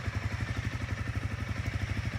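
A 2021 Honda CRF300L motorcycle engine idles steadily nearby, with a fast, even low thump and a light mechanical clatter on top, running alone without speech.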